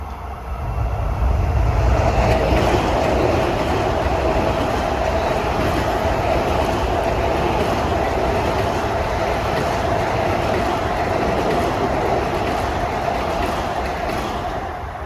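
A Long Island Rail Road eastbound train bound for Farmingdale passing on triple track, a loud, continuous rumble with rhythmic wheel clatter that swells up quickly and holds before easing slightly at the end.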